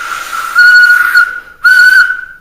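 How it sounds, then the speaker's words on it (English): A small whistle from a Vendmaster gumball machine setup gives two loud, clear, steady toots, the first longer with a brief wobble, the second shorter, with breathy hiss around each blast. "Got this whistle that I used"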